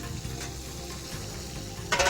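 Water poured into a pan of frying onions and spices, a steady sizzle that suddenly flares into a loud, bright hiss at the end as the liquid hits the hot oil, no talk.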